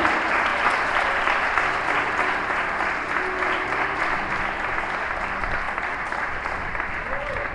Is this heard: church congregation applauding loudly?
yes